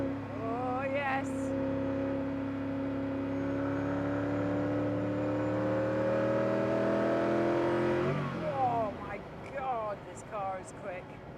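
A Koenigsegg CCXR Edition hypercar on a track holds a loud, steady engine drone that climbs in pitch as it accelerates, then the revs drop sharply as it shifts or lifts off, with someone talking over the engine near the end.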